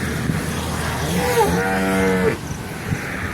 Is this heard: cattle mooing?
yes